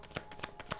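Tarot cards being shuffled, three quick riffling bursts of papery flutter spaced evenly, close and fairly quiet, with no voices.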